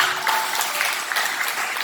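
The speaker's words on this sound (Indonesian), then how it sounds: "Berikan tepuk tangan bagi dia." A church congregation claps in a brief burst of dense, steady applause, many hands together at moderate loudness.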